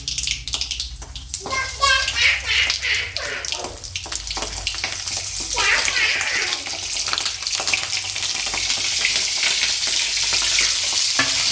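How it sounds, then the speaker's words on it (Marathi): Chillies fry in a hot pan for a capsicum vegetable dish, giving a loud, continuous crackling sizzle with bursts of spattering and stirring that hold steady throughout. "तापल्यानंतर आपण या मिरच्या याच्यात ठेवणार आहे"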